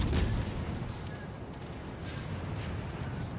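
Naval guns firing in World of Warships Legends, a sustained barrage of low booming shots that blur into a steady rumble, loud and close, with faint higher pings over the top.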